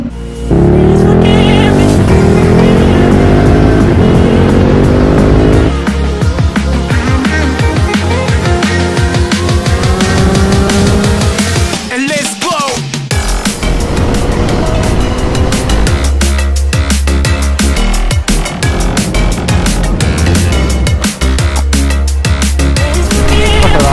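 A KTM 890 Duke R motorcycle rides over mountain passes, its engine loud and close with repeated rising and falling revs, gear changes and constant wind rush.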